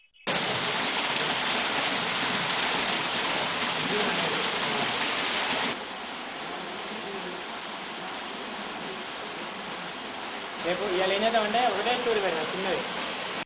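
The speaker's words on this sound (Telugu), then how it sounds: "ఒక్క వాటర్ ఫాల్ అందాలే మతిపోగొడుతుంటే మరో 6 జలపాతాలున్నాయి ఇక్కడ." A waterfall and stream in Khammam send water rushing over rocks in a dense, steady roar that continues throughout, dropping slightly in level partway through, with a voice talking over it near the end.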